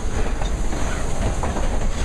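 A New England Central Railroad train rolls steadily close by, its rail cars giving a continuous, dense rumble with faint clickety-clack from the wheels and no voices.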